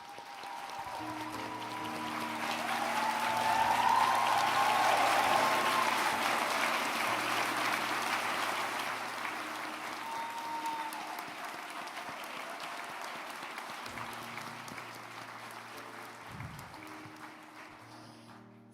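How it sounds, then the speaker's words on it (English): Concert audience applause in a hall, a broad wash of clapping that swells to a peak early, then slowly tapers off while a low tone hums underneath. "Please join me in offering a round of applause for Professor Karen Burke."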